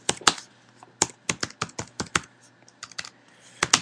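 Rapid, uneven keystrokes clatter on a computer keyboard, with sharp close clicks in irregular bursts and short pauses, no voices over them.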